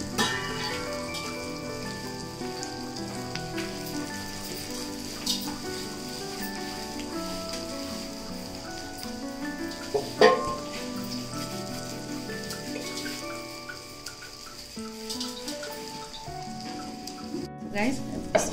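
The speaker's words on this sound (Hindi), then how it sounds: "इसको थोड़ी देर ऐसे बिल्कुल लो हीट पे पकने देंगे" Vegetable egg omelette cooking in a pan on low heat, with a soft, steady sizzle and light crackle running under prominent background music, plus a few louder clatters.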